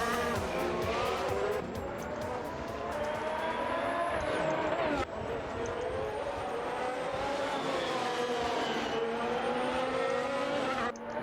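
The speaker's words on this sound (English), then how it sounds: "Just taking a better line than Sainz helped me a lot through that." A Formula 1 race car engine screams at high revs in an F1 video game, its pitch climbing and falling with gear changes through the corners, loud and continuous with a brief dip in the middle.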